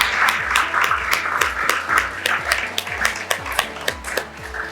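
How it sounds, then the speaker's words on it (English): Audience clapping at a secondary graduation ceremony for two chairpersons: a dense, steady round of applause that keeps going throughout, with sharper individual claps rising out of the crowd. Low background noise and faint voices sit underneath. "I would like us to give our lovely two chairpersons here this evening a round of applause"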